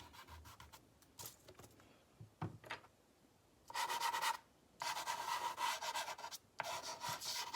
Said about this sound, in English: And with my kneaded eraser, I'm just going to lift out